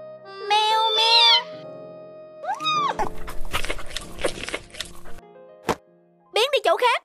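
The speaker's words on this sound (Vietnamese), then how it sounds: "Mèo mèo." A cartoon cat meows in a few high, bending cries, then clattering and thumping follow, with a sharp knock and more meows at the end.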